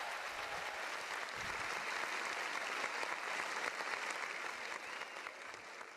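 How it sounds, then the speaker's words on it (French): An audience at an Ivorian stand-up comedy show applauds loudly, a dense, sustained roar of clapping hands that fills the room steadily and eases off slightly near the end. "Pourquoi vous avez applaudi fort comme ça?"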